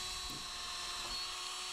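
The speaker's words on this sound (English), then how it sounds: "So I'm just going to quickly drill this out. That'll be a 3mm drill bit again" A small 3mm bit drills a hole in a part on a Royal Enfield Classic 350 Reborn, a thin, high, steady whine that stays quiet and even for a brief moment.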